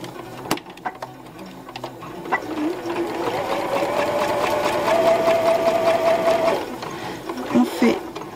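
A sewing machine hums in a steady run for several seconds, stitching right alongside zipper teeth on a pair of trousers, with some handling noise before and after.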